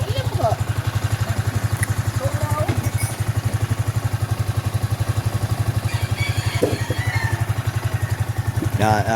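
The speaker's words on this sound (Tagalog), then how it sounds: "Pinainit na ang mga motor." Motorcycles idle while warming up before a group ride in San Pascual, Batangas, with a loud, steady, rapid engine thump close by. People talk faintly over it.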